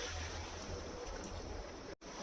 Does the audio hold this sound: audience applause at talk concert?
no